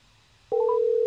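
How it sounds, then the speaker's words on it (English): A telephone call connecting: a short rising blip of tones, then a steady loud electronic ringback tone that holds unbroken to the end, following near silence. "Oh, it's ringing."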